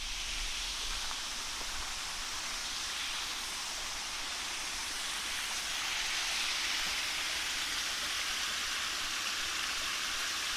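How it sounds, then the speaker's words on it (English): Small waterfall along a forest hiking trail in Loyalsock State Forest, Pennsylvania, a soft continuous rush of falling water heard from moderate distance, steady and unbroken, no voices. "I was not expecting to see any waterfalls on this trail"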